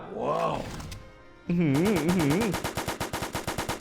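Rapid automatic gunfire rattles in a Roblox zombie-defense tycoon game, a fast regular burst of shots loud and close, following a stretch of voice and game music.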